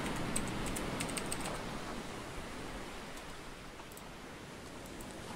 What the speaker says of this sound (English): Gotta make sure I actually click in here before typing it.